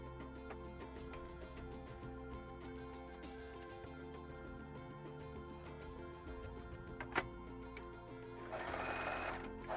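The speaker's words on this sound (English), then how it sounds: "I've not sewn like this with the overlocker before" An overlocker sewing machine stitching latex for dragon paw accessories runs as a steady mechanical whir with a rhythmic ticking, quiet and continuous, and grows slightly louder near the end.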